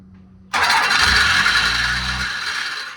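A 12-valve Dodge Cummins diesel engine cranks and suddenly roars to life, settling into a loud, rough, steady rumble with a heavy low-end throb close by; no one speaks.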